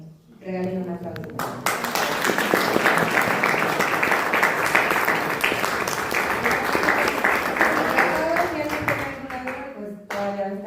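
A classroom audience breaks into brisk, lively clapping for a speaker, a local municipal chronicler, rising after a brief spoken lead-in and fading as a voice returns near the end.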